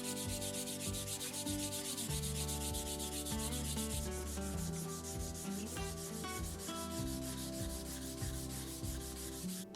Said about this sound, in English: So we're just gonna go through, sand both of these down